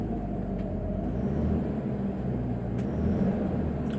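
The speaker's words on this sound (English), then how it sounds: "I'm just gonna let this car run for a little bit and yeah, rev it a little bit." Engine of an ageing Mercedes-Benz W126 in poor condition idling steadily, a constant low rumble with no clear revs, heard close by with no talking.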